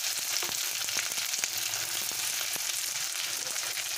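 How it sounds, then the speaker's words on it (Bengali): Onions fry in a pan of spiced oil for chicken masala, giving a steady, close sizzle with scattered small pops and crackles throughout, with no voices. "পেঁয়াজটাকে আমি ভালো করে ভেজে নেব।"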